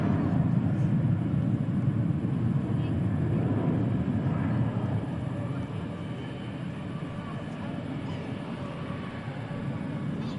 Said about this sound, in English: as this A321 takes off